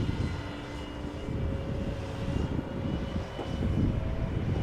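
An Embraer jet departing Amsterdam Schiphol Airport gives a steady, broad engine roar with a faint tonal whine, holding fairly even and swelling slightly toward the end, with no talk.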